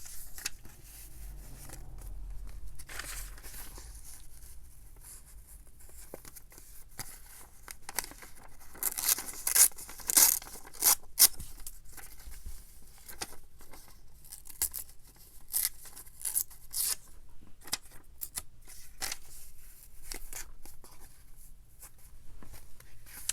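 Paper pages being torn by hand for a nature-themed junk journal, with intermittent ripping and crinkling in uneven bursts, loudest through the middle, close and quiet, with no talking.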